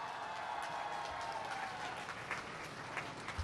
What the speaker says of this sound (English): please join me in making welcome to Malaysia the Honorable Shri Narendra Modi, Prime Minister of India, with a round of applause